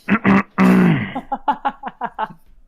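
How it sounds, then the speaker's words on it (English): A man at a tabletop role-playing session clearing his throat up close: two short gruff bursts and a longer rasping rumble, then a run of quick clipped throaty grunts that fade out. "And clear my throat."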